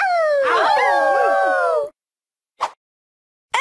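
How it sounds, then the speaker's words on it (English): A dog howls loudly and close in several overlapping, sliding wails for about two seconds, followed by silence and a couple of very short bursts. "Howl."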